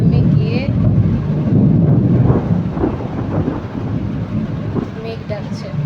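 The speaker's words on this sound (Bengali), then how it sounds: "মেঘ ডাকছে" Deep, loud thunder rumbles on and off in rolling swells during heavy rain, with wind buffeting the microphone.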